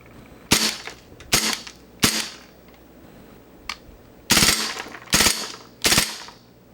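Airsoft Taurus PT99 pistol firing on full auto indoors, six sharp bursts of rapid cracks separated by short pauses, loud and close.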